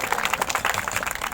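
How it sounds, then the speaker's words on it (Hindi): A church congregation claps loudly and rapidly in unison, a dense, steady patter of many hands for a short burst. "ताली बजाएंगे जोर से ताली बजाएंगे"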